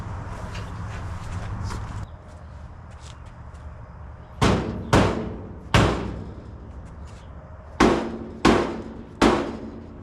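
A hammer adjusts parts: two loud close metallic strikes in quick succession, a third after a pause, then a sharp group of three after a lull, over a steady low hum.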